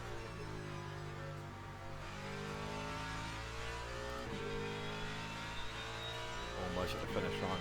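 A Ferrari race car's engine revs steadily in a racing video game, a sustained mid-pitched drone with layered harmonics that rises slightly near the end, with a voice talking over it.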